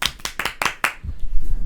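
A few hands clapping close by during a football podcast, about five sharp claps in a quick run that stop abruptly, leaving a low rumble of movement.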